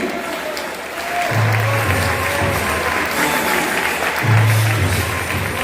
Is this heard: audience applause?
yes